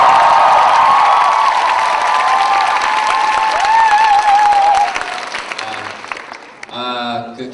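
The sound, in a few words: audience applause at a talk concert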